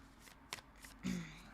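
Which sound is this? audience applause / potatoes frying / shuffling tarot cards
shuffling tarot cards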